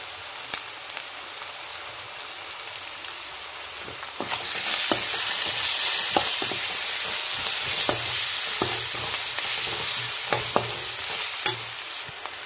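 Coriander, turmeric and lemon rice seasonings frying in a pan, a steady close sizzle that swells louder partway through, broken by scraping and clicking stirs.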